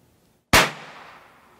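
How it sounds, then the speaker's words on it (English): A bolt action muzzleloader rifle fires a single loud, sharp report that rings out and fades over about a second, with quiet before it and no voices. "Move the safety to the fire position and fire the rifle."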